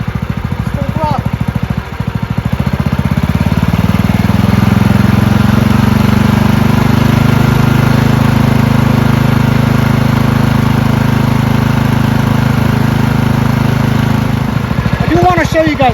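A Craftsman LT1000 lawn tractor engine with a freshly swapped carburetor runs close up, a loud steady drone held at full throttle for most of the clip without surging, with a brief lower idle before the revs rise.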